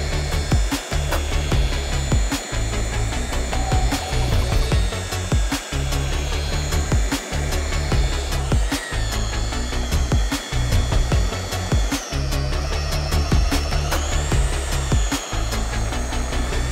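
A machine polisher works the paint of a 25-year-old Peugeot 306 through cutting and finishing stages, a steady close whirring drone broken by regular ticking clicks and shifting pitch, with no voices.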